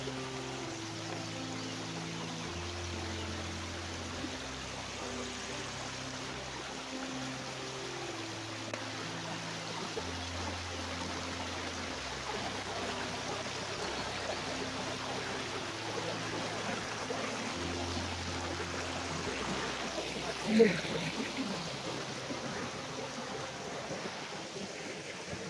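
Water rushes steadily at Mashenuloddi waterfall, a broad continuous roar of falling and flowing stream water with no pauses, with a low shifting drone under it and a brief sharp knock late on.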